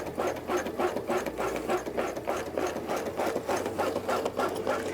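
A Brother Luminaire 2 embroidery machine stitches a basting box onto stabilizer, its needle pounding in a fast, steady mechanical rhythm that runs close and continuous throughout, with no voices.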